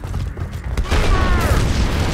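A loud booming Gears of War Ultimate Edition explosion rolls in midway and sustains as a heavy rumbling roar with a mechanical whine, close and dense.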